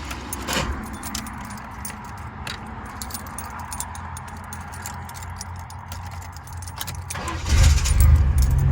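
A 1988 Chevrolet S10 Blazer with a bad starter, keys jangling at the ignition and a faint crank, then the engine catches near the end and rumbles loudly and close, with no talking.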